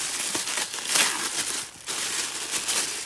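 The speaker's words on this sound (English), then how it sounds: "let's unwrap it." Package for a Casio G-Shock CasiOak watch being unwrapped, continuous close crinkling and rustling of wrapping, with louder crackles around the middle and steady rustling to the end.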